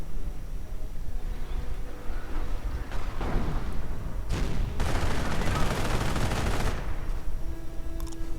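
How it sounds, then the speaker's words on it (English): Nebelwerfer incendiary rockets in a World War II strategy game let out a harsh rushing barrage over continuous battle noise, building into a loud, dense burst of launches and impacts before fading. "the Nebelwerfers once more let out a howl at the enemy. Saturating the entire area with incendiary rockets"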